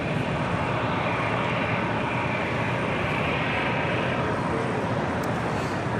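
Delta Airbus A350 jet engines roaring loud and close, a dense sustained rumble and hiss that holds steady from start to finish.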